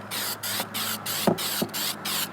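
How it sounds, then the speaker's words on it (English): White spray paint hisses from a can onto a burlap-wrapped duck decoy in short, close bursts of about half a second, separated by brief pauses and faint clicks. "White oversprays more than black does, so you always want to do it first when you're using spray paint"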